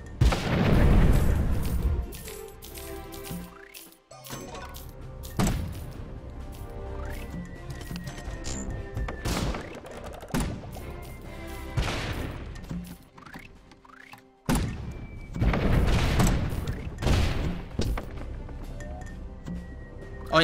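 Cannon fire and explosions from the artillery video game Cannon Brawl: repeated booming blasts at irregular intervals, with heavy low rumbles at the start and near the end and sharp metallic clinks between them, with no talk over them.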